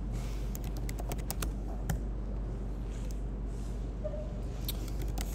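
Typing on a computer keyboard, with scattered quick key clicks and short bursts of taps over a steady low hum, fairly close and without talk.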